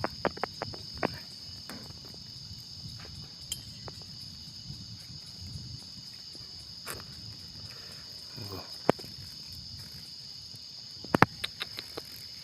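Cicadas call outdoors in a continuous, high, steady droning whine that runs through the whole stretch, with scattered clicks, taps and rustling nearby underneath.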